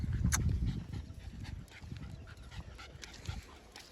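Two freshly bathed pet dogs, a male and a female, pant and shuffle about nearby after play, with quick breathy huffs and small movement noises and an occasional faint whimper.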